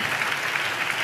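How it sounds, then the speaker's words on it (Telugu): Brief, dense clapping from a church congregation during a sermon, a short even burst with no voices on top. "చప్పట్లు కొడితే యేసయ్యకు స్తోత్రాలు చెప్దాం."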